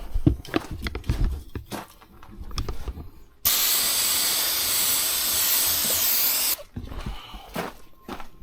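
A loud, steady hiss of aerosol spray is aimed into a Caterpillar C15 engine in a 2001 International 9900x truck, lasting about three seconds between quieter shuffling and handling noises.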